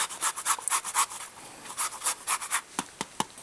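Citrus rind scraped over a hand grater for zest to finish a striped bass dish, a series of quick, light rasping strokes in uneven bursts, soft and close with no talking.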